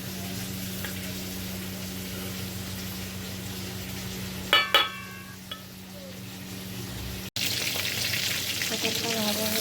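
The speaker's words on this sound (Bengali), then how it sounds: "পটলটা ভাজা হয়ে যাচ্ছে" Slit pointed gourd (potol) frying in a pan gives a steady, even sizzle throughout, with a couple of brief utensil clinks near the middle and a low hum underneath.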